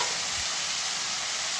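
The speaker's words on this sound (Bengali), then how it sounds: "পেঁয়াজ চিংড়ি মাছ সব একসঙ্গে ভেজে নেব।" Onions and a few shrimp frying together in a pan, giving a steady, even sizzle that holds unbroken from start to finish with no talking.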